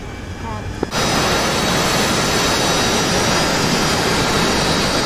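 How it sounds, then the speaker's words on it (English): A Harrier jet taking off in the DCS flight simulator: after a brief click, a loud, steady broadband jet roar swells in abruptly and holds without letup to the end. "Harrier's taking off."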